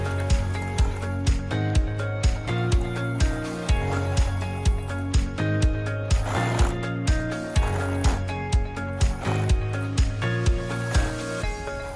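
A sewing machine stitches a rever collar, its needle clattering in a fast, even mechanical rhythm with a steady motor hum, close and loud throughout without talk.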